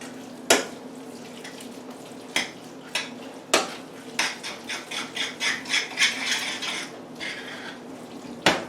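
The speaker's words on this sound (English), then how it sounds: "Mix some more of that sauce up there" Thick pizza-burger sauce being stirred in a pan: a run of close, rhythmic scraping strokes of a utensil against the metal, with a few sharper knocks, and no talking.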